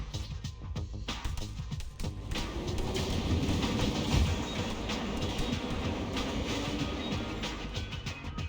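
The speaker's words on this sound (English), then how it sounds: "She stepped onto the train." A moving train in a Teenage Mutant Ninja Turtles video game rumbles steadily and loudly for the whole stretch, with a low rolling drone and faint rhythmic clatter and no speech.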